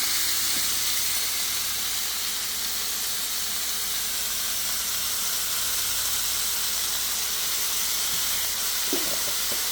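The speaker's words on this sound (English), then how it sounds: "I'm going to saute that for about maybe 5 minutes or so" Garlic and onions sauté in a hot pan, giving a steady, loud sizzling hiss that runs unbroken throughout, with a few faint clinks near the end.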